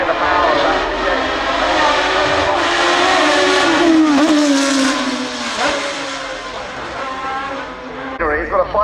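A 5.9-litre V8 in a very lightweight car runs loud and close at Goodwood Festival of Speed, its engine note climbing and falling steadily, with crowd and announcer noise mixed in.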